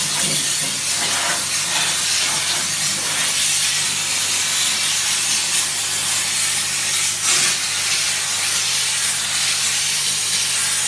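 A steam cleaner blasts the underside of a car before underseal treatment, giving a loud, continuous close hiss of spraying steam with no pauses.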